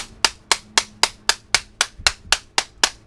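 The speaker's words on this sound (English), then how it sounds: "I like to take it and whack the crap out of the end of them." Hard whacks against the end of a power2spare medical battery pack, struck to loosen its glue once the screws are out: about ten sharp, evenly spaced impacts in quick succession, loud and close with nothing else heard.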